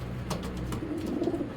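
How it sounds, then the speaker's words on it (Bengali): Racing pigeons of a paired couple coo softly and steadily in a loft, a low continuous murmur with a few brief higher chirps, moderately close. "এটা দুটা একই ঘরের কবুতর"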